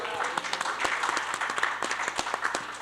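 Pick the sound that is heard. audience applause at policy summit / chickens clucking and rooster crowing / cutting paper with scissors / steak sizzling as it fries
audience applause at policy summit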